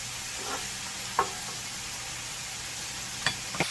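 Squid and vegetables stir-fry with chili powder in a pan, a steady hiss of sizzling broken by a few light spatula knocks.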